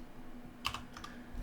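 A few quick, faint keystrokes on a computer keyboard, two or three close clicks in a quiet room with no talking.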